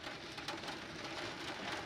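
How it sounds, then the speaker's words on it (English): Rain begins falling at a riverside camp in Southern Oregon, a steady, even hiss of drops pattering on surfaces nearby, broadband and continuous without voices. "Well, the rain is starting to come down."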